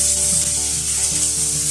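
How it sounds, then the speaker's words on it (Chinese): Eggs stir-fried with sliced onions, salt and soy sauce in a wok, soft scraping and sizzling up close over a steady background of music. "然后加入鸡蛋，翻炒均匀"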